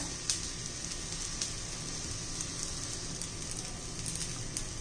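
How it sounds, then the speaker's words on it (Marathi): Stale bajra bhakri rolls shallow-frying gently in a pan, giving a steady, soft crackling sizzle with faint scattered pops throughout, fairly quiet and even. "सगळीकडून आपण असेच शेकून घ्यायचे, चांगले फ्राय करून घ्यायचे हळूवारपणे"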